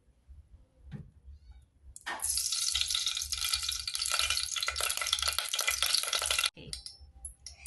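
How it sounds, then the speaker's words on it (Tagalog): Oil heating in a cooking pot for chicken and pork adobo: quiet kitchen clatter, then a loud, steady sizzle that runs for several seconds before cutting off abruptly near the end. "Init nga kaldero, ang unahan tangabutang ang oil."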